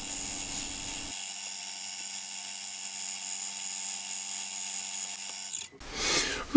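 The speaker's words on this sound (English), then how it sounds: "Onto the bench drill next, I'm using the same" A steady high mechanical whine of a bench drill running continuously while drilling a pilot hole with a 3.5mm bit, ending with a short burst of rougher noise.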